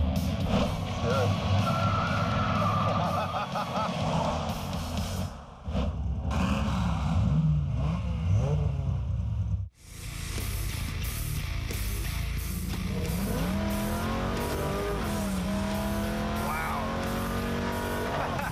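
A Hurst/Olds car drives along with its engine running and rising in revs, a steady close motor drone cut by a brief break, with people talking over the engine throughout.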